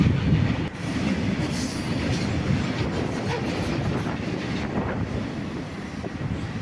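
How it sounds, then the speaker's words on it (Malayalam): A goods train hauling petrol rolls past a small two-platform village railway station in Wayanad, Kerala, a steady close rumble with wheel clatter on the rails and gusts of wind across the microphone. "Goods train. പെട്രോൾ കൊണ്ടുപോകും."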